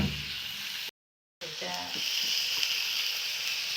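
Onion frying in a pan, with carrots about to be added, gives a steady, bright sizzle that drops out briefly for about half a second and then resumes slightly louder.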